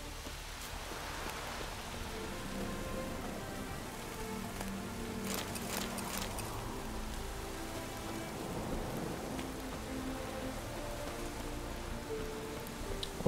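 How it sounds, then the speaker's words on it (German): Steady rain falls in The Witcher 3: Wild Hunt, a continuous hiss of drops pattering on surfaces that holds at an even level, with faint rumbles and game sounds underneath and no speech. "Ah, dieses scheiß Regenwetter"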